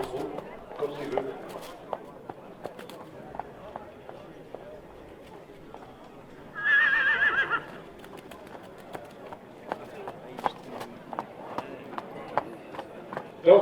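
Horse hooves at a Breton horse fair, a horse led at a walk then trot, producing irregular clip-clop thuds on hard ground amid crowd chatter and cooing pigeons, moderately near.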